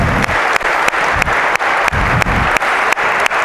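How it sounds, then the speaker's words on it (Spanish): Applause for players at a basketball coaching clinic on reception drills, a steady wash of group clapping with regular, evenly spaced accents throughout, close and fairly loud. "un aplauso para esta gente"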